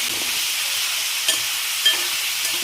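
Egg roast masala, Kerala style, is stirred in a frying pan, giving a constant soft sizzle and hiss with a few faint clinks of the spoon against the pan.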